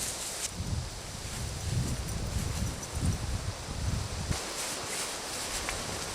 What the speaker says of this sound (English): There's just a heavy amount of wind pushing on the back of it